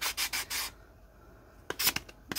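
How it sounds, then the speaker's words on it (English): A sanding block rubbed over a newly nailed wooden storage shelf, giving several quick, close scratchy strokes in two bursts with a quiet pause between them. "just give it a quick sand"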